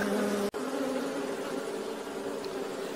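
Honey bees buzz steadily around an open beehive as wax foundation frames are added, a dense close-up hum that holds throughout apart from one momentary dropout near the start.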